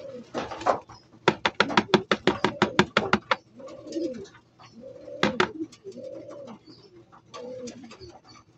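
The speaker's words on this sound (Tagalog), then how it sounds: "Bali 5 na yung kalapati ko." Pigeons cooing in a loft in Alaminos, a run of rapid close wing claps or pulses followed by soft repeated low coos, with some faint chirps, no talking.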